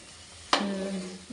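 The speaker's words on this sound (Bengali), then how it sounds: "অল্প তেলে ভাজলে কিন্তু ভালো ফুলবে না, ফোলার জন্য তেলটা বেশি করে দিতে হবে, সুন্দর ছাকা তেলে ভাজতে হবে" A pea kachori drops into plenty of hot deep-frying oil, starting with a sudden splash-like burst that settles into a continuous close sizzle and bubbling.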